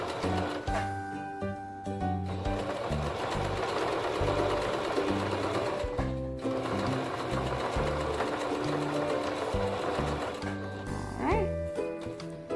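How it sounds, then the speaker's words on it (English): A sewing machine stitches scraps of fabric for hair bows, running in short rhythmic bursts of rapid mechanical chatter that start and stop repeatedly, close and clear with no talking over it. "So we're going to go over here to the sewing machine."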